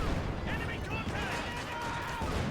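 Mortar rounds and gunfire in the World War II strategy game Company of Heroes 2 crackle and thud in a dense, continuous battle din, with faint whistling shells overhead and a narrator talking throughout.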